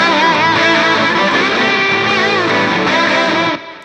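Full band mix built around a distorted guitar tone, with rhythm guitars carrying light reverb, playing loud and dense throughout before cutting off near the end.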